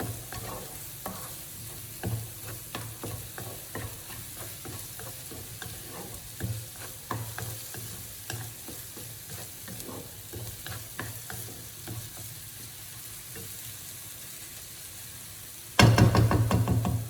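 Thinly sliced food fries and browns in a pan with a continuous close sizzle and frequent stirring scrapes and clicks, a low hum underneath, ending in a sudden louder burst of sizzle near the end.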